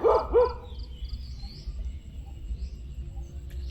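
A dog barks twice in quick succession by a roadside fishing spot, fairly close and clear, then falls quiet against a low outdoor rumble and faint bird chirps.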